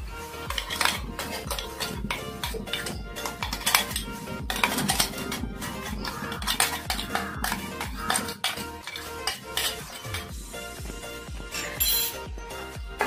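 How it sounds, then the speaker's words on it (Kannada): Spoon scraping and clinking in a pan while stirring tomato with ground green chilli and coriander seasoning, steady repeated metallic scrapes and taps at close range. "ಈಗ ಒಂದ್ಸಲ ಹಿಂಗೆ ಕಲಸೋಣ"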